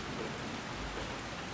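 Steady rain hisses evenly throughout, a dense, constant wash of falling drops with a faint low rumble underneath and no voices.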